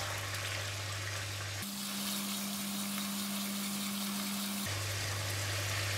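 Oil sizzles faintly as food is stir-fried in chili garlic oil with French beans, a steady hiss running under a low, constant hum, no voice.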